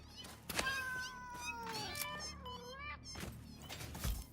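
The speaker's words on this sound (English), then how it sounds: "they have a in-game overlay of cats" Cartoonish cats from an in-game overlay in a video game meow several times in quick succession, drawn-out wavering cries close and clear, with soft thumps from the game underneath.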